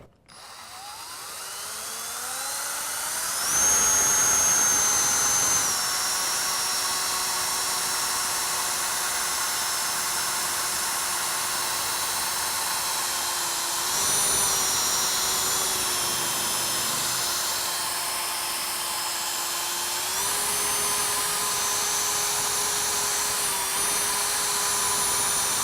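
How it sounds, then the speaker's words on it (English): A drill spins a polishing pad across car paint during severe scratch removal, giving a steady high whine with a droning motor hum that holds for a long stretch, with brief pitch dips and shifts as pressure changes. "Remember, this is going to spin, and there's also an exhaust on a lot of drills."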